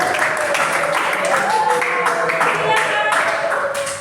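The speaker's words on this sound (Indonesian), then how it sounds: "Beri tepuk tangan untuk semua" Students applaud together in a classroom at the end of a lesson, a steady, close wash of clapping that fills the room without a break.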